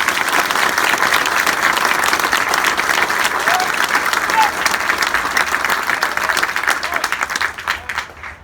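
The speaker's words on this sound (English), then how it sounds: "Ladies and gentlemen, please give a round of applause for all the awardees." Steady audience applause filling an army basic training graduation ceremony at Fort Benning, a dense sustained clapping crowd that stays loud throughout and thins slightly at the end, with some voices mixed in.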